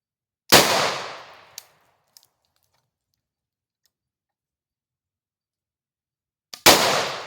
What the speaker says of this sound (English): I pulled the trigger and nothing happened. Then it went off.